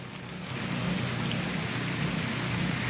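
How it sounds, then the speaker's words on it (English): Heavy rain pours down outdoors in a cold night-time rainstorm, a steady dense hiss that swells louder after the first half second and holds without a break, with no voices over it. "Oh no, it's raining even harder!"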